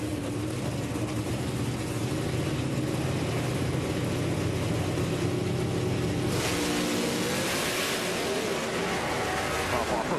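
Drag racing cars at Joliet launch off the start line, with a loud, continuous engine roar that shifts in character partway through.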